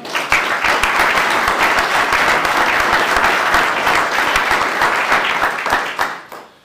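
Sustained applause from an audience at a sports and youth awards ceremony, honouring a champion girls' handball team from Hauts-de-France, steady dense clapping for about six seconds before fading out.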